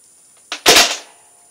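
A Centurion Nerf blaster fires a single shot, a sharp snapping pop with a quick mechanical click just before it, close to the mic and followed by silence.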